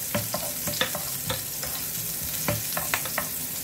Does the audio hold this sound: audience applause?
no